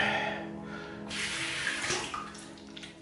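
Tap water runs and splashes steadily as a face is rinsed after a wet shave with a Billy Goat razor, the flow close and fairly strong with small splashing bursts, no voices.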